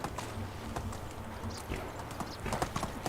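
Horse hooves thud on the ground in the medieval-life game Medieval Dynasty, an irregular close clatter of steps over a soft low rumble, with no voices.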